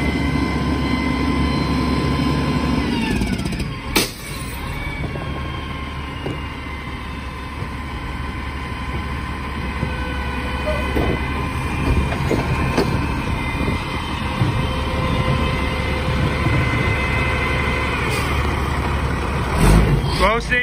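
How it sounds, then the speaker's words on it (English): A garbage truck collects trash on a Montreal street, its engine rumbling steadily and close, with clanks and mechanical thumps from the loading. "it's been a long time since I filmed the garbage truck in this area"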